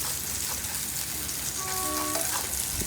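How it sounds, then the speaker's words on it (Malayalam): Red chilli, coriander and garam masala dry-roasting in a pan for a beef pallicurry give a steady, close, even sizzle throughout, with a faint high tone drifting in midway. "മുളക് ഒന്നിച്ചിട്ട് വറുത്ത് പിന്നെ കൊത്തമ്പാരിയും മറ്റേ ഗരം മസാലയിലും ഒന്നിച്ചിട്ട് വറുത്ത്"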